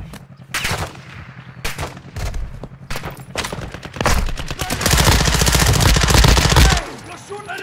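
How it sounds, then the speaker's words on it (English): Rapid automatic gunfire from a squad-based shooter video game, loud bursts of shots and a sustained heavy volley, with voice chat talking over it. "You are taking effective fire."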